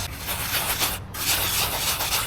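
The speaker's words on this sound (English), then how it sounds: "just get you some sand, put it in the pan, and then make your circles again" Sand swirls in circles around a gold pan, a continuous gritty rubbing and scraping close up with rhythmic swells and one short break.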